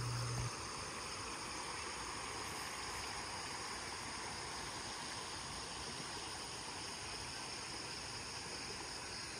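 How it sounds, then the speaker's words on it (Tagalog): A river flows past a riverside campsite in Magdalena, Laguna. Dense, steady rushing water fills the scene at an even level throughout, with no voices. "at syempre, yung tunog ng ilog"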